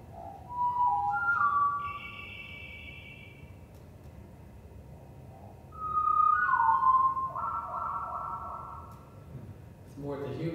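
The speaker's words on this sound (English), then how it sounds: "Slow down that same wood thrush." A slowed-down wood thrush song: drawn-out, low whistled phrases separated by a pause, fairly clear over a soft background hiss.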